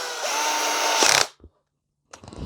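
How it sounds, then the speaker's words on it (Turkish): A power drill spins up and drives a screw into a Rampage RM-270 X-Titan gaming monitor stand, one steady whine of about a second that stops abruptly, followed by a short pause and some faint handling clatter. "Ondan sonra zaten hemen matkabımızla"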